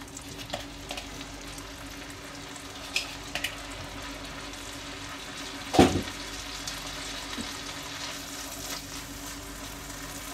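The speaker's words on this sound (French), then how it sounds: "Alors, on va mettre les oignons." Onions fry in a pan during preparation of a pork tenderloin dish, with a steady low sizzle throughout and a few soft clinks and stirring knocks. One louder knock comes partway through, and nobody speaks.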